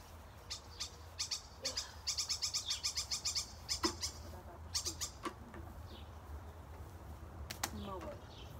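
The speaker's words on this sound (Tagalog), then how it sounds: "Ibon!" Small birds chirp in a front yard during morning cleaning, with a run of quick, fairly loud repeated calls in bursts over steady low background hum, and a faint voice briefly present.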